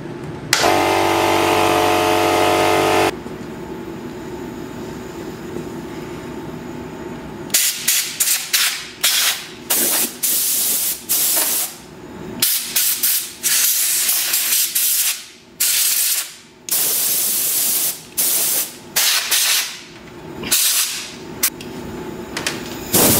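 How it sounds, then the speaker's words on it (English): Compressed air from an air compressor blasts dust out of a computer case for a budget Ethereum mining rig, in loud hissing bursts of varying length that follow a long steady blast, with short gaps between them and no talking. "I'm just going to get the compressor out and we'll give it a bit of a dust out"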